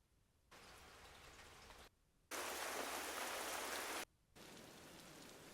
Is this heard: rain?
yes